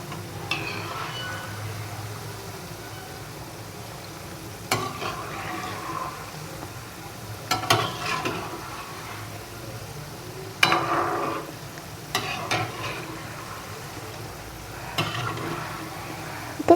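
Rava sweet fries in a pan with a continuous low sizzle, broken by several sharp clinks and scrapes of a utensil against the pan at irregular intervals.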